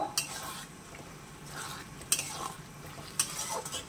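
Boiled matar dal and chana dal are stirred in a cooking pan over a raised gas flame. A spoon scrapes softly and clicks sharply against the metal a few times, with a quiet sizzle underneath.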